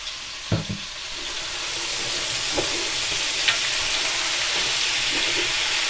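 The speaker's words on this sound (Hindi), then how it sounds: "और साथ ही हम इसमें ये 6 अदद हमने दरमियाने साइज़ के प्याज ले लिए, इनको डाल देंगे।" Six medium onions sizzle steadily in oil in a pan for keema matar, a continuous bright frying hiss with a few soft clatters of a spoon early on.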